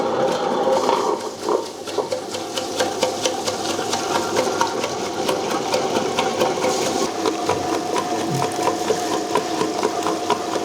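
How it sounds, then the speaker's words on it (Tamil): A smart wet grinder grinding rice and urad dal runs with a steady whirring drone and fine rattling clatter, continuous and close for the whole stretch. "இப்போ நான் உங்களுக்கு பொருள் எதாவது போட்டு அரிசியோ உளுந்தோ போட்டு அரைச்சி காமிக்கிறேன்"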